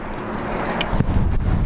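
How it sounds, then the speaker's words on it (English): Strong wind buffets the microphone outdoors beside a river, a loud continuous rushing roar with gusty swells and a couple of brief thumps, no voices. "As windy and as loud as it is out here, it really is nice."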